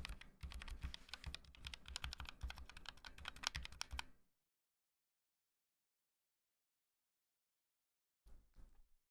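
Fast, close, crisp typing on an ASUS ROG keyboard with RX optical mechanical switches fills about four seconds, then silence, then a short final burst of keystrokes.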